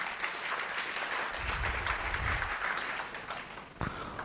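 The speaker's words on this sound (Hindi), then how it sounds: "हाँ, जोर से ताली बजा सकते हैं।" Loud, sustained clapping from an audience at a Jeevan Vidya camp session, a thick continuous patter of many hands that thins slightly toward the end, with a single sharper clap near the close.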